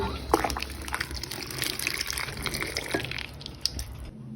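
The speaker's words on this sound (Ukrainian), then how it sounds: "Заливаємо кипяточком." Boiling water poured from a kettle over tomatoes and garlic cloves packed in jars, making a continuous splashing, gushing flow that lasts a few seconds before tapering off near the end.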